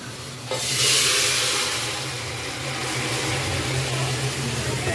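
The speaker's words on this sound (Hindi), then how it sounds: "इधर ये सूजी अम्मी आप मजबूती से डालें" Semolina tipped into very hot sugar syrup bursts into a loud hissing sizzle that swells sharply, then settles into a steady bubbling fry with stirring, close and continuous.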